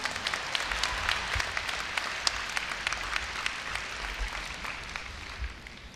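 Applause from a university entrance ceremony audience welcoming the president: steady, dense clapping from a large crowd in a hall, moderately loud and sustained throughout with no voices.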